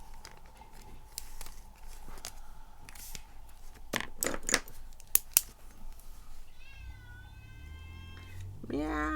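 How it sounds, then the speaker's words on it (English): A hungry house cat meows from downstairs, with a few clear, drawn-out, rising calls near the end, heard alongside quiet room sounds and scattered small clicks. "Meow, the cat's downstairs and is hungry."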